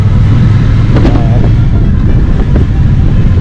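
A Triumph Bonneville T120 motorcycle engine runs steadily while the bike is ridden, a loud, continuous low rumble overlaid with constant wind buffeting on the microphone, with slight swells in the revs and no speech.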